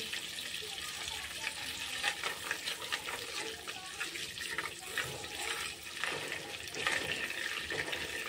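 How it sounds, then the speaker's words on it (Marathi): Butter melting into oil in a pan over a very low gas flame while making butter chicken masala, giving a steady soft hiss and faint bubbling throughout, with no talk. "बटर बघा आपलं चांगलं तेलामध्ये मिसळलेलं आहे."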